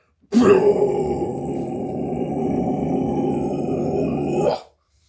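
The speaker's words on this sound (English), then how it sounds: "But I could do like the classic guttural lows" A single sustained guttural low metal growl, a raw, rasping vocal held steadily for about four seconds, close and loud with no talking.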